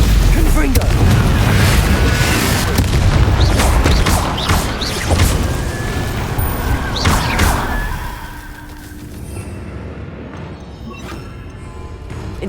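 Spell-combat explosions in Hogwarts Legacy as a Confringo fireball strikes amid a fight, with repeated loud booms, thuds and crashing impacts over several seconds before the din thins out.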